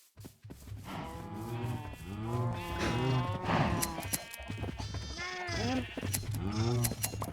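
Sheep in a Minecraft game bleat repeatedly in wavering calls, fairly loud and close, with a player's voice talking among the bleats.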